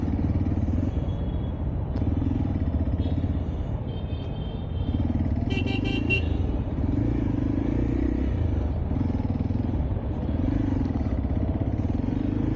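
A motorcycle rides along a road in traffic, its engine giving a continuous loud rumble that rises and falls in waves, with a brief high mechanical clatter midway.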